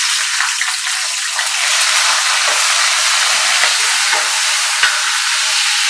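Yardlong beans fry in hot oil for Bengali shukto, a dense, steady sizzle with occasional stirring clinks and scrapes, close up and with no talking.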